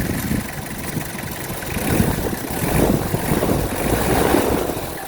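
Toyota Mighty X pickup engine revved by hand from under the hood, a steady mid-pitched rumble that swells and eases repeatedly, heard up close without talk.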